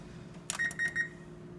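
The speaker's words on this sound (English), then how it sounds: "So set the timer." An oven timer being set for meatballs baking at 400 degrees: a soft press, then three short, evenly spaced electronic beeps close by in a quiet kitchen.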